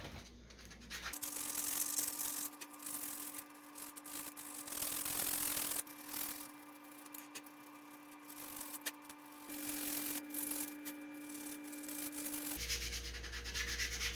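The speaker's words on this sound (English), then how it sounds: "150 grit sanding." Hand sanding with 150 grit sandpaper on a wooden humpback spinner-back lipless crankbait, a steady close scratchy rubbing that continues for the whole stretch with brief pauses, alone with no voices.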